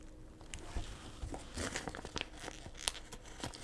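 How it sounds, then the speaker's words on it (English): A sticker is peeled from a planner sticker sheet, close and quiet: a run of crisp paper crinkles and short tearing rustles with no talking. "So I'm gonna get a little man Hanners sticker"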